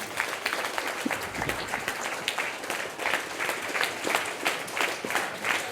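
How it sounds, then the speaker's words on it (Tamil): An audience at a science talk on curiosity and creativity claps steadily throughout, a fairly soft, even patter of many hands with no break. "இந்த கைதட்டு நமக்கும் சேர்த்து தான்."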